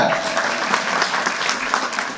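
A studio audience at a Bangladeshi television comedy show claps together in a dense, steady burst of applause, with a voice faintly underneath.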